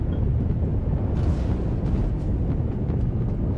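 A spaceship slams into a Retaliator ship in Star Citizen, giving a heavy rumbling impact with a deep roar and crackling debris that sustains for several seconds, loud and close.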